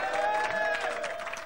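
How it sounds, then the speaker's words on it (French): A crowd applauds a Tour de France stage winner at the 1996 Soissons start, a dense, steady wash of clapping and cheering that fills the whole stretch, with tonal sounds running through it. "là, allez, on l'applaudit un petit peu, tiens."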